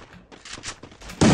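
A single M1014 shotgun blast in Garena Free Fire, one loud sudden shot at the very end after a stretch of quieter in-game rustle and movement sounds.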